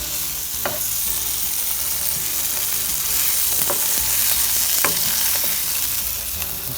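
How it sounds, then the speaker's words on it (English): Sausage fries in a pan with a steady, bright sizzle throughout, broken by a few sharp pops and spatters at irregular moments. "here we can see that the sausage is kind of getting along, cooking"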